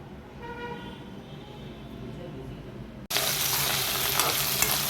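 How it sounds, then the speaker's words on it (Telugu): Curry leaves and green chillies frying in hot oil for tomato chutney, a sudden loud, dense sizzle bursting in midway after a quieter stretch with faint tonal background hum. "ఈ కరివేపాకుని ఈ పచ్చిమిరపకాయలు వేపేసుకుంటాను నూనె వేసుకొని"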